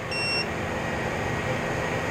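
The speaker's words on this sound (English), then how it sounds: "I don't know why that thing's beeping at me." A single short electronic beep from a power inverter in a 12V off-grid cargo trailer electrical system sounds at the start, then a quiet steady hum continues underneath.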